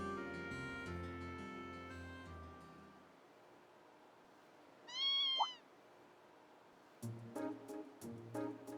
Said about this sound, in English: What's a kitten doing here? Meow?